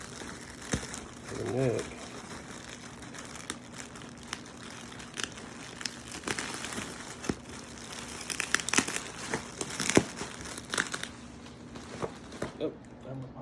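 Crinkling and tearing as tape is pulled off the neck of an unboxed 1988 Japanese-made Charvel 4B bass, intermittent rustles and rips with someone talking now and then.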